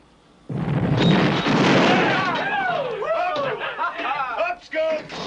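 A torpedo strikes a ship in a wartime submarine drama: a sudden loud, heavy blast that rolls on with rumbling debris and groaning, then fades into scattered crackles.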